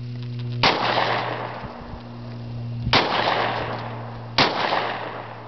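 Three loud, close gunshots are fired at a cash register, each sharp crack spaced a second or two apart and followed by a long echoing decay, with no speech.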